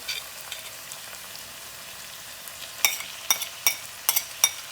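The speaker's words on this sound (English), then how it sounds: "So we have to fry till brown now." Stuffed bitter gourd filling with green chili and mango fries in a pan, a faint steady sizzle joined in the second half by a handful of sharp spoon scrapes and clinks.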